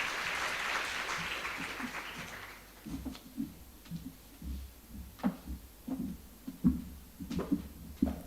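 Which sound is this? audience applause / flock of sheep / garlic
audience applause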